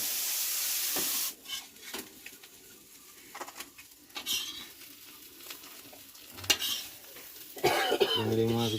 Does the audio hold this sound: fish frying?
yes